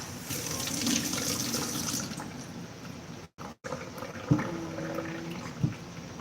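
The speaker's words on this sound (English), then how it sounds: "So I'm going to rinse it off." Running kitchen tap water pours steadily while a knife is rinsed under it in a holiday-rental kitchen, a continuous close splashing stream with a short break midway and a couple of small clanks near the end.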